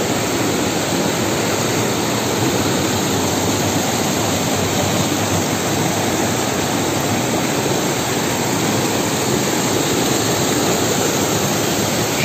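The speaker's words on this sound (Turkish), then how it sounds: "Sadece su sesi var burada." The Çoruh River valley's Ciro waterfall in Yusufeli, Artvin, Turkey, roars in a dense, unbroken rush of water that stays loud and steady from start to finish, with no other sounds breaking through.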